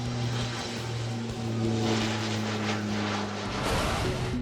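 A life flight propeller plane flies close by on a rescue mission, its engines giving a loud, steady droning hum with a strong propeller tone and no voices.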